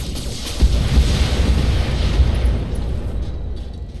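A battle mech in Battletech fires all its weapons at once, producing a loud, sustained roar of explosions and booming impacts that rumbles through the whole stretch before easing slightly at the end.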